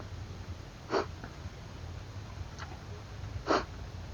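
A few short wet sniffs through the nose, spaced apart in an otherwise quiet room, close and moderately loud.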